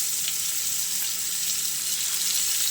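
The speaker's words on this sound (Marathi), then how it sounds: "चला तर मग आता आपण हे जे कंटोळे भरीत केलेलं आहे ते आपण एक एक करून तेलावर घालूया" Stuffed kantola (spiny gourd) pieces frying in hot oil in a pan, a steady close hiss and sizzle throughout with no voices.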